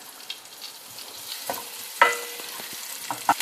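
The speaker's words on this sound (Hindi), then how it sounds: "और अब मैं इसमें वो जो मैंने प्याज चॉप करके रखा था वो मैं डालने लगी हूँ।" Chopped onion tossed into hot oil with asafoetida hisses softly in a pan, with a few sharp scraping stirs and clinks of the spoon standing out against the steady low sizzle.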